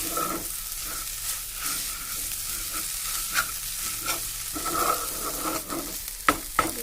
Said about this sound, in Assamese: কণী বিলাহী ঢেকীয়া ভাজি হৈ গ'ল এতিয়া